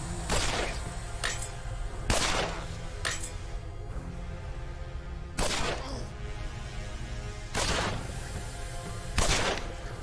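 Sharp, spaced bursts of SMG strafing fire in the tactical video game Achtung! Cthulhu Tactics, about seven loud cracks with short gaps between them over a quiet background.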